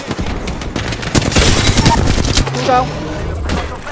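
Rapid gunfire rattles in an Apex Legends trios match with a loud, dense fusillade of shots and impacts, while players talk over it.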